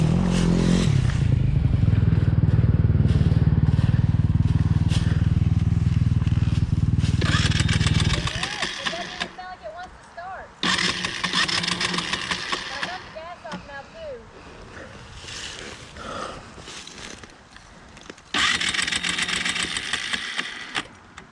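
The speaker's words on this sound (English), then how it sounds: "when I go to start it, you can hear it. It doesn't even sound right when it tries to start" A Honda CRF230 dirt bike with a suspected blown motor, its engine clattering unevenly in a rough sputter, then failing start attempts in short bursts separated by gaps, with voices nearby.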